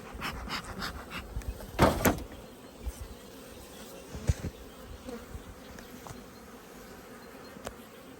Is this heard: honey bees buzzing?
yes